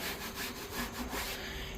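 Steady rhythmic rasping of a sanding block rubbed back and forth over rusted Jeep YJ bodywork, close and continuous, with no voices.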